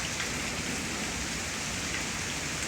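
Dense, constant downpour hammers the ground and nearby surfaces in a severe Kansas thunderstorm, close and unbroken, with no speech.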